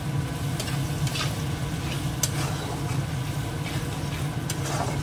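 Mushrooms frying in spiced oil in a pan, a steady soft sizzle with faint scraping and stirring clicks throughout, close and moderately quiet.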